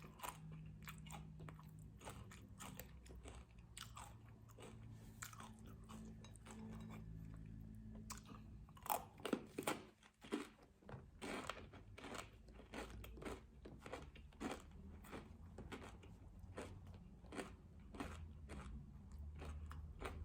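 Crispy fried Thai spring rolls being bitten and chewed up close, with a long run of sharp, irregular crunches and crackles at a quiet level and no talking.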